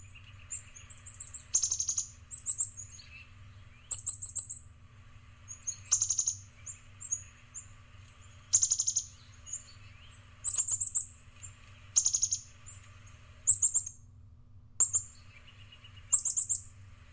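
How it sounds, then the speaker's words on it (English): A chickadee repeats short chip notes and bright calls in bursts roughly every two seconds, over a steady low background hum. "here's a chickadee going on with various chips and calls"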